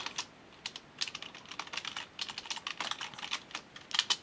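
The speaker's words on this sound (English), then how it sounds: "Now I'll type people's text." Fingers typing on a computer keyboard, a quick irregular run of close, light key clicks in short bursts with tiny gaps, quiet and alone.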